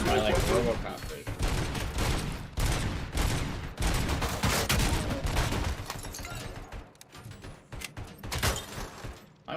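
Rapid enemy gunfire erupts in the RoboCop: Rogue City video game, loud overlapping bursts of automatic shots crackling in dense volleys, easing briefly before more shots ring out toward the end.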